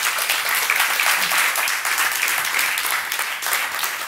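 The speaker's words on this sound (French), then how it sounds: "Applaudissez-les bien fort" Sustained, even applause from an audience after a science workshop talk on tornadoes and vortices, many hands clapping densely and loudly without a break for the whole stretch.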